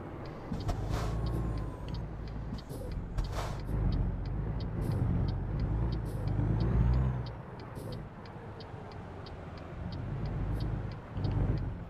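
A truck accelerates in American Truck Simulator, with a steady, loud engine drone that swells and dips, accompanied by a regular series of faint ticking clicks.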